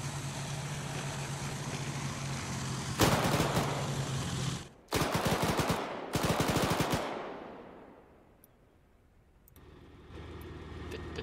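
Heavy automatic gunfire in ArmA 3, long loud bursts of rapid shots over a low rumbling vehicle engine, then fading to a quieter engine idle with no talk.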